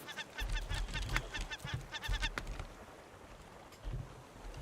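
Birds in the ocean survival game Raft give repeated nasal, honking calls in quick rapid bursts, moderately near over a low rumbling background of sea and wind.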